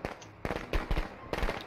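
Firecrackers pop in the Friday the 13th video game, a string of sharp, separate cracks in irregular bursts, several close together, fairly faint overall.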